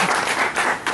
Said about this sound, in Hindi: ओके एक ताली सबके लिए डन।